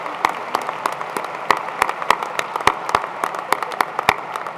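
Scattered, individually distinct claps ring out from an audience at a university valediction ceremony for the graduating class of 2019, a loose irregular rhythm with no talking over it.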